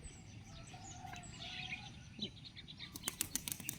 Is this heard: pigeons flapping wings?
yes